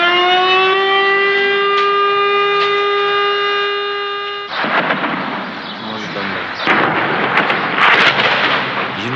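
A sustained wailing civil defense air raid siren in wartime Sarajevo, May 1995, holds a steady tone, then gives way abruptly to loud booming blasts and rumbling.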